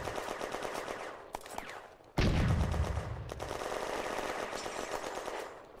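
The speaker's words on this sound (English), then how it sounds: "Parmentier's section renews their firing at the German machine gun nest in the east" A battle in 1940 with rapid machine-gun fire aimed at a German machine gun nest: steady bursts rattle throughout, and a heavier, louder stretch of shooting kicks in partway through.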